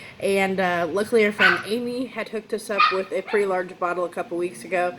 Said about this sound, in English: Excuse the dogs, they're in the background having fun.